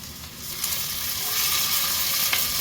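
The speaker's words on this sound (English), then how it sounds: "nicely browning in oil" Onion, garlic and cumin fry in oil, making a dense, steady sizzle close by that grows slightly louder, with a couple of faint stirring taps.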